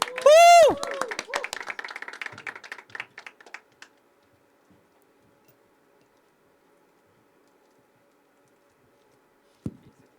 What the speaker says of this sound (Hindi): तालियां उठाइए, तालियां उठाइए।